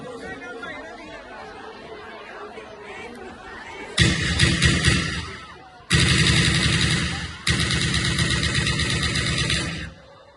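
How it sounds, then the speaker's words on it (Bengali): Dramatized gunfire for a staged rally scene: dense, loud bursts of rapid shots start abruptly, break off, and resume in long sustained volleys after a murmur of crowd chatter. "ঠিক তখনই মিছিলে গুলি চালানো শুরু করলো।"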